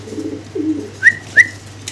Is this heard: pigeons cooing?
yes